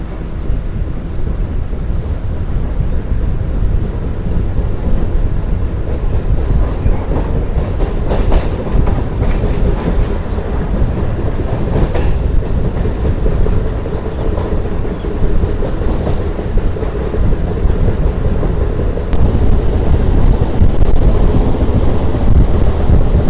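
A moving passenger train between Ranaghat and Amghata via Santipur and Krishnanagar, heard from inside a coach as a loud continuous rumble with rattling and clicking over the rails, plus some wind buffeting, with no talking.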